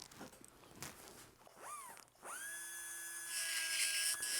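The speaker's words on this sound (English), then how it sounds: "So first I'm going to grind this back and just smooth it out." A small rotary dental grinder smoothing down a denture, its high whine rising and settling into a steady buzzing pitch after a few brief scraping touches.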